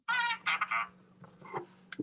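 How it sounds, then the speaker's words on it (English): A phone alert sounds during a Montreal Canadiens post-game hockey show: bright, buzzy harmonic tones in quick bursts, fairly loud at first, then softer chirps and a brief sharp tone at the end, with a low steady hum underneath. "That's my phone."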